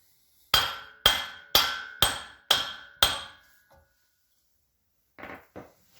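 Six loud, evenly spaced metallic hammer blows ring out close by, knocking a CV axle shaft off a 2005 Dodge Ram 1500, followed after a pause by two softer knocks.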